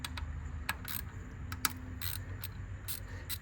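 Socket wrench with a 14mm socket working a bolt on a Mazda CX-5 engine during fuel injector removal, giving quiet, sparse metallic ratchet clicks against a low engine-bay background.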